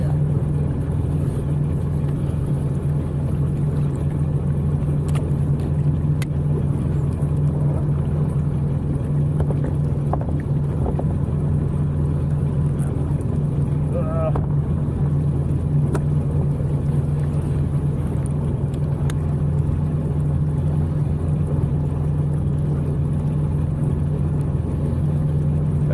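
A Humvee with a swapped-in LS V8 engine idles at a dock after thermostat trouble. A steady, loud, low rumble holds with no change in level the whole time, and nobody talks.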